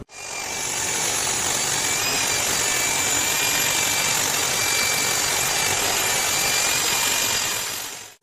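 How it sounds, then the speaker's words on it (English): A power drill fitted with sandpaper whirs steadily with a gritty sanding rasp against a purpleheart and maple wooden bowl, running loud and constant from start to stop with no talking. "The rest of the sanding goes as normal with normal sandpaper mounted in a power drill."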